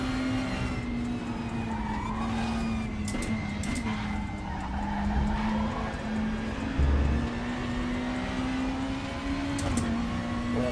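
Race car in the Super Tourers racing video game, a loud steady engine drone with shifting pitch, tyres squealing and skidding at intervals and a brief thump partway through.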